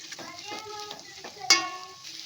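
Ginger-garlic paste sizzles in hot oil in a pan for jackfruit biryani, with steady close frying hiss, a spoon stirring through it in several scrapes, and one sharper clink near the middle; no talking.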